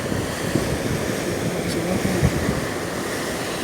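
Surf washes steadily at Devil's Beach in Rio de Janeiro, a broad continuous roar of waves with wind buffeting the microphone and no clear break in the noise.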